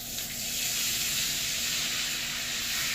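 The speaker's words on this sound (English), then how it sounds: "we're going to put that white wine in to help take the bits off of the bottom" White wine hits a hot pan and sizzles in a loud, steady, hissing fry that holds evenly for several seconds, close and continuous, with no talking.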